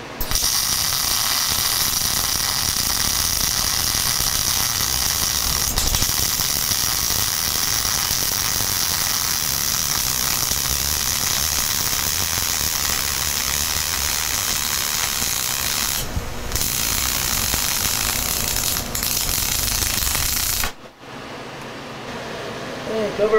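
Stick or MIG arc welding laying a deliberately rough bead, a steady close crackling hiss of the arc running almost unbroken for about twenty seconds before cutting off abruptly near the end.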